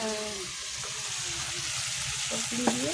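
Food frying in a pan on a wood-fired stove, a steady close sizzle with occasional stirring clinks and a short sharp scrape near the end.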